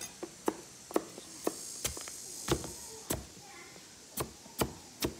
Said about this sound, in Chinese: 把土豆切成均匀的块备用